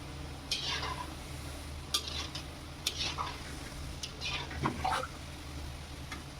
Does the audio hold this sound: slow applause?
no